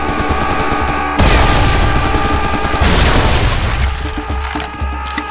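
Loud, dense gunfire from the Serious Sam 3 BFE shooter, a continuous fusillade of rapid shots and booms layered over game music, with one short gap partway through.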